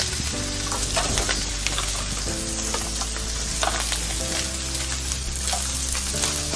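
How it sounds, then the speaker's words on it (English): A cup of mixed vegetables sizzles and fries steadily in a hot pan for fried rice, a loud continuous crackle with occasional stirring scrapes and no voices. "Gonna add our vegetables. It's a cup of mixed vegetables."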